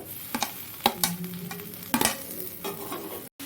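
Chili sauce and tomato sauce are stirred together in a hot pan, with a soft sizzle beneath sharp scrapes and knocks of a spoon against the pan, close up and without speech.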